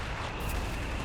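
Artillery fire in the war game Company of Heroes 3, a dense, continuous booming rumble with layered blasts, loud and close, no voices.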